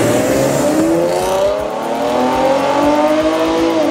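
A car pulls away and accelerates hard, its engine revving upward in pitch across several seconds, loud and close, with no talk over it.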